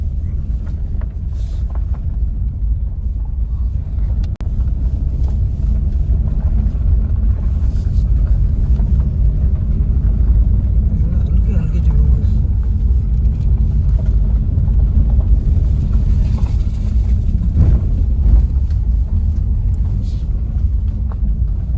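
Wind blowing across a hillside at night beside a deserted road near Naukuchiatal, a steady, loud, low roaring rumble that runs unbroken throughout, with no voices.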